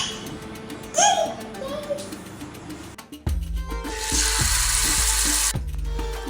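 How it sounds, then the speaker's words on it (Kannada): Fish pieces are laid into a pan to fry, setting off a steady loud sizzle in the second half after a stretch with brief clatter and a light voice sound. "ಹೀಗೆಲ್ಲಿ ಫಿಶ್ ಫ್ರೈ ಮಾಡಲಿಕ್ಕೆ ಇಡ್ತಾ ಇದ್ದೀನಿ"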